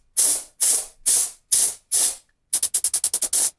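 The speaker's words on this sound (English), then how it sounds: "If I blow compressed air here, then on the other side the dirt should just fly out." Compressed air blows dirt out through an engine mesh in loud, close hissing blasts: five separate bursts, then a rapid string of short puffs.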